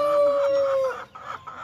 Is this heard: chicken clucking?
yes